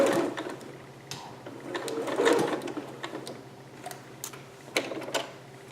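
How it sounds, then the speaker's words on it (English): A sewing machine runs a regular 5/8 inch seam through fabric, stitching forward and then back-stitching, in short bursts of mechanical clatter at close range with pauses between runs. "So I'm just doing a regular 5/8 inch stitch on this. Stitching and then back stitching."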